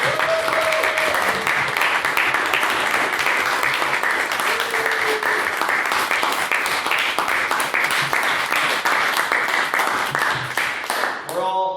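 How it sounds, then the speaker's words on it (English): An audience at a debate event gives a long, sustained round of applause, loud and even throughout, with voices faintly audible beneath before the clapping cuts off. "Another round of applause, please."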